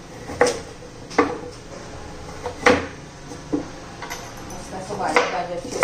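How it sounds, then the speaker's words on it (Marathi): Carrots are chopped into small pieces on a board, several separate knife taps at an uneven pace, fairly faint, with a quiet kitchen background. "गाजर पण बारीक तुकडे करून घ्यायचे."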